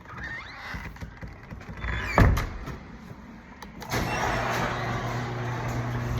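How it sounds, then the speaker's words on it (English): A home garage door rolls shut with a sustained mechanical rumble, a sharp bang near the middle as it meets the stop, then a steady motor hum continuing to the end; no talking. "I'm shutting the garage door right now because there's nobody home."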